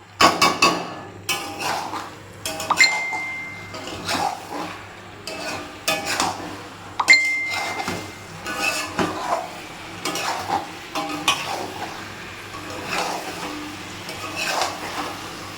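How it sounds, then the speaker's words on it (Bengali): Mutton curry being stir-fried in a pan for a light red jhol, with repeated spoon scrapes and clinks against the metal in an uneven rhythm over a low sizzle, close and moderately loud. "এখন একটু আঁচ বাড়িয়ে দিতে হবে, দিয়ে সুন্দর করে কষাতে হবে এটাকে"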